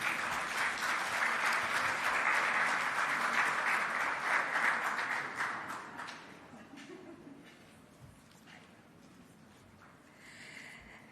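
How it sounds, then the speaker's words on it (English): Audience at an official launch event for a medicinal cannabis permit programme gives sustained applause, loud and dense at first, then tapering off into quieter scattered claps. "she deserves another round of applause"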